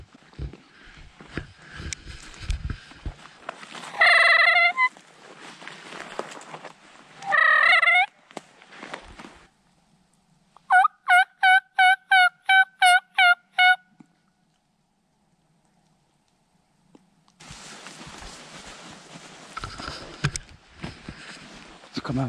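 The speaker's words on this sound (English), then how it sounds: "Just gobbled. I don't know if you guys heard it, but he gobbled." Wild turkey gobbling outdoors during spring scouting, two loud rattling gobble bursts followed by a rapid run of sharp repeated calls, with quiet breaks and rustling between them.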